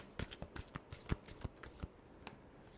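Tarot cards are shuffled by hand in a quick run of crisp riffling flicks and taps, close and fairly quiet, then slowing to a few last snaps.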